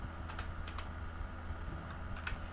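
Rapid typing on a computer keyboard while writing HTML in Notepad, with close, uneven clusters of key clicks over a steady low background hum.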